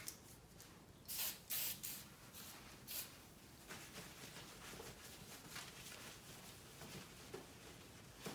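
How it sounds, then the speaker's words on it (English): Several short hissing bursts of prep spray misted onto a Honda 400ex quad before vinyl decal graphics go on, clustered near the start, then quieter handling noise. "we'll take our prep spray"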